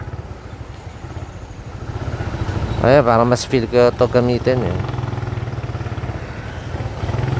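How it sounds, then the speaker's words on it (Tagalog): An old Suzuki Raider motorcycle rumbles steadily while riding in traffic, its engine drone continuous throughout with someone talking briefly over it in the middle. "Sobrang dala natin ngayon ni Raider na luma kong motor."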